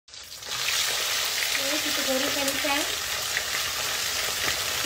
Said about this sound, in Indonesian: bila dia dah goreng garing, kita angkat dan kita tapiskan di minyak dia